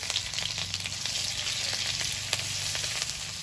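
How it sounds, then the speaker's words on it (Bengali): Nigella seeds and ginger crackling in hot oil in a wok, a steady close sizzle with scattered sharp pops throughout, no voices. "কড়াইতে তেল দিয়ে দেব, কালো জিরে,"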